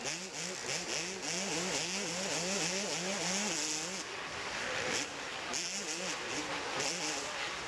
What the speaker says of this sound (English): Hear how long he leaves the throttle on into that triple.